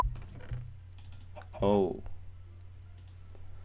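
Computer keyboard and mouse clicking while placing flags in a fan-made game map, a light irregular patter of clicks in the background, with a short spoken exclamation partway through.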